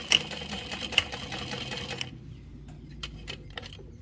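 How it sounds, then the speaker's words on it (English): A sewing machine stitches a straight seam with back stitching at the start and end, a fast even mechanical whir that stops partway through, followed by a few faint clicks and handling sounds nearby. "I'm going to sew straight up to the 5/8 of an inch line. Back stitching well at the beginning and end."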